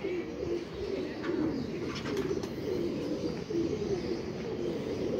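Pigeons coo softly and repeatedly against a steady background hum, with a few faint chirps scattered throughout.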